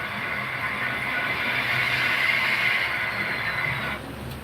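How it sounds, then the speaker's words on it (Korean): A steady mechanical hum and hiss from a model diesel locomotive's DCC sound system in a diesel locomotive depot on a model railway diorama, droning evenly before dropping off near the end. No speech. "여기 디젤 기관차 차고지에 있는 기관차들은 모두 DCC 사운드 기관차입니다"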